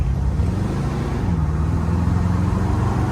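A 1956 Chevrolet Bel Air convertible accelerating along an open road, its engine giving a steady, close, low rumble throughout with no pauses and no voices.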